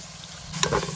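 Onions and tomatoes sautéing in a pan: a steady close sizzle with a couple of brief stirring scrapes toward the end, no talk.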